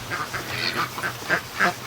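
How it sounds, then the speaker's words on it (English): Upset Muscovy ducks give a string of short, breathy quacks and hisses, about six clipped calls in under two seconds, close and fairly clear. "I want to show you some really upset ducks"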